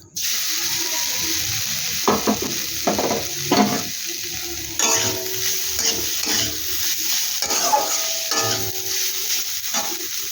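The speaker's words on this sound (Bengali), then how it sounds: "দেখে কড়াই বসিয়ে দিছি, নারকেলটা আমি দিয়ে দিচ্ছি।" Grated coconut filling for steamed palm-fruit pitha sizzles as it is stirred and fried in a wok, with repeated scraping stir strokes over a steady close frying hiss and no talking.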